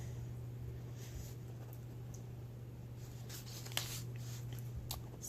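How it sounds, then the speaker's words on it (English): Soft, close scratching of a pen on paper while writing a short word during project planning, faint strokes over a steady low electrical hum. "So I'm just going to write stars."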